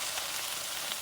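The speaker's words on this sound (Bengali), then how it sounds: "এখন জাস্ট একটু হালকা মশলা দিয়ে ভাজছি" Mixed vegetables fry in oil with ginger paste and light spices, producing a steady, close, broadband sizzling hiss throughout the short moment.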